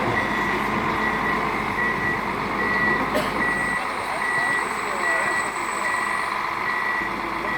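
A PistenBully snow groomer at a ski resort reverses with a steady, loud, evenly spaced backup beeper over engine rumble, as people talk quietly in the background.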